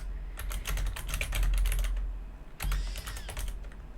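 Fast typing on a computer keyboard while writing a bash script file in Linux, a close, busy clatter of keys in two bursts split by a brief pause.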